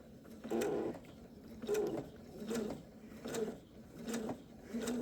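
A sewing machine stitches through a fusible appliqué quilt in quilt-as-you-go fashion, running in about five short mechanical bursts with brief pauses between them, close by and without speech.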